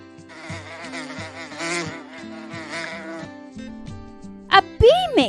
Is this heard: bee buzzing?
yes